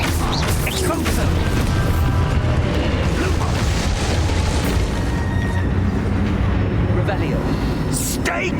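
A burst of spell combat from Hogwarts Legacy: the Expulso explosion charm detonates into a loud, sustained booming blast with crashing debris, dense and continuous across the whole stretch, with voices shouting over it.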